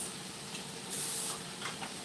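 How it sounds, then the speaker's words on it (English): A short burst of aerosol spray hisses close by, about a third of a second long, with faint kitchen noise around it. "Let me spray it."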